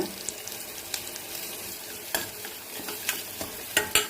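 Vegetables with turmeric and chili powder sizzle in a hot pan for a tiffin gravy while a spoon stirs and scrapes, with occasional sharp clinks of utensil against metal.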